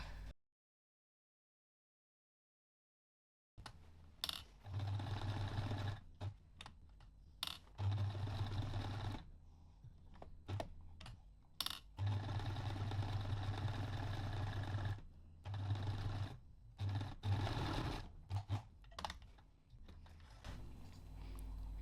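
A sewing machine stitches fabric for a handmade Waldorf-style star baby doll, running in close, steady bursts with short pauses between runs and a hum throughout, after a brief silent start.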